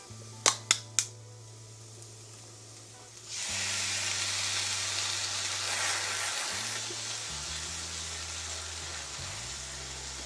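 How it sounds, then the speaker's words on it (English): Prego pasta sauce hits a hot pan and sets off a loud, steady sizzle that carries on for several seconds, after a few quick sharp clicks at the start. "so I'm actually going to add in my pasta sauce now"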